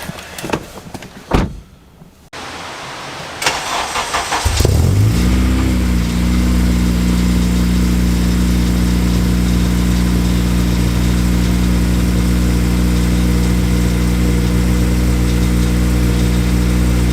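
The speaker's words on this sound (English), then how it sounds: "So let's go ahead and fire her up." Honda Civic Si engine cranks over and catches after some door and handling noises, then settles into a loud, steady, close idle with a constant low hum.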